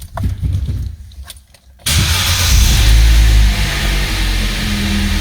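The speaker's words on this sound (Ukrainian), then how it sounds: "Ну то добре, машинка завелась." An Opel car engine, a Corsa or Meriva under repair, cranks briefly and then catches. It settles into a loud, steady idle close by, with no talk.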